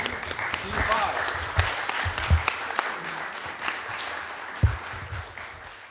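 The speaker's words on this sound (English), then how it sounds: "a round of applause and a great big thank you." Meeting attendees give a presenting team a round of applause, moderate clapping spread across the room with a few louder individual claps and some murmured voices underneath.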